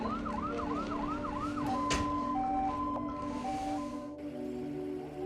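An ambulance siren wails in a rising and falling pattern outside a COVID hospital in India, then shifts to a steady two-tone electronic warble over a low traffic hum, moderately distant.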